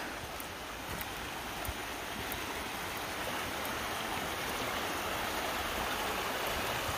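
Cataract Falls on a Gatlinburg hiking loop pours with a steady, dense broadband rush of falling water, loud and unbroken throughout with no voices.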